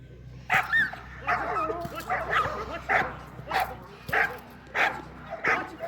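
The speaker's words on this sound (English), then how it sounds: "Watch how the decoy agitates the assault dogs." Several police assault dogs bark, yip and whine repeatedly in quick bursts as a decoy agitates them at a K-9 display, loud and close, with excited voices mixed in.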